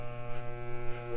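Electric hair clippers buzz steadily and close up while cutting a man's own hair, with a low, even hum.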